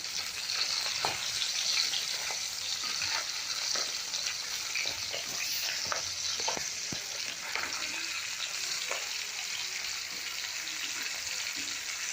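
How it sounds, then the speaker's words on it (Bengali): Continuous hissing sizzle of hilsa fish lightly frying in hot oil, steady and fairly loud, with scattered pops and crackles throughout. "মাছটা আমি খুব বেশি ভাজবো না, হালকা ভাজবো আমি।"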